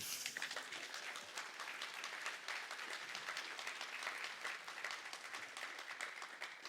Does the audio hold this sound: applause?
yes